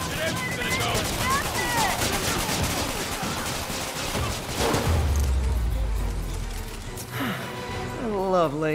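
Gunfire from thugs in Marvel's Spider-Man Remastered, Stark Suit free roam, with dense crackling shots across the first half, then a deep boom and rumble, mixed with speech and vocal effort sounds.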